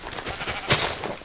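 A Minecraft sheep gives a single short bleat near the middle, fairly loud and close against a busy game background.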